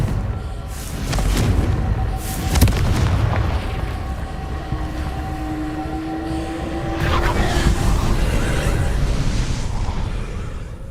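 A Confringo fire spell from Hogwarts Legacy explodes with a deep boom, followed by rumbling magical effects and a second swelling burst later on. The sound is loud and continuous.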